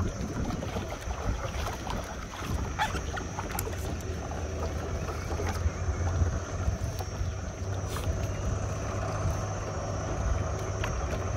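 Strong wind buffets the microphone on a river while out on a fishing boat setting gill nets for silver carp, a steady low roar with gusty rumble running throughout, no talking.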